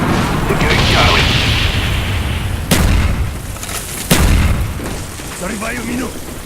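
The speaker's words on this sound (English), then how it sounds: "Friendly napalm strike on the way." Napalm strike explosions in a military shooter video game: a loud, sustained rumbling roar of fire and blasts, broken by two sharp, heavy booms a little over a second apart.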